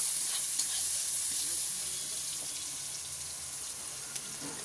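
Onions sizzle as they fry in a pan, a steady, fairly quiet hiss that continues without interruption and fades slightly toward the end.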